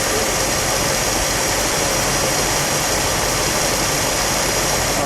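A 1967 Mercury Cougar GT hardtop with a 390 V8 and four-speed runs at steady, throaty revs, a dense continuous engine roar with no talk over it.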